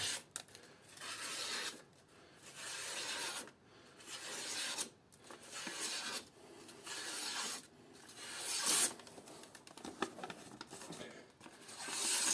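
A hand-forged knife made from an old file cuts into horn with repeated rough scraping strokes, about six rhythmic bursts separated by short pauses, close and fairly loud.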